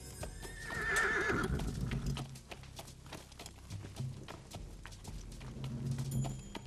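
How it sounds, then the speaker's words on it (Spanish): A cartoon horse whinnies loudly near the start, followed by a steady series of sharp hoof clip-clops on a hard surface that continue at an even pace through the rest of the clip. "Rápido, un buen caballo para el capitán Ogareff."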